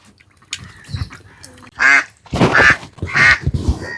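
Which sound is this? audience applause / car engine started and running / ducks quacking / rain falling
ducks quacking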